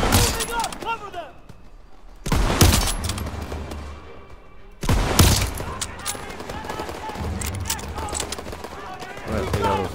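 Sustained gunfire from the video game Call of Duty WWII, with bursts of rapid automatic fire and heavy shots between them, loud and continuous throughout while voices talk over the combat.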